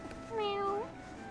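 A pet cat gives a single clear, drawn-out meow with a rising then falling pitch. It is close and fairly loud, with no speech over it.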